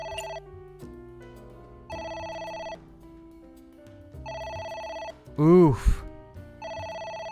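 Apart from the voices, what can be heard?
telephone ringing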